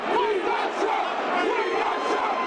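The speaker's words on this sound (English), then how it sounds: "The crowd of thousands erupted after the announcement." Thousands of people at a tense public announcement erupt into loud, sustained yelling, a dense roar of shouting voices with no let-up.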